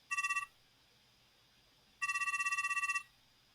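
Telephone ringing in a video game while calling the apartment manager: two electronic ring bursts, a short one and then a longer warbling one about a second long, clear and close with no talking.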